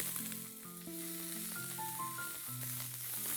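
Onion fries in hot oil with asafoetida and curry leaves, a steady soft sizzle and crackle heard close up, faint but continuous, with no voices.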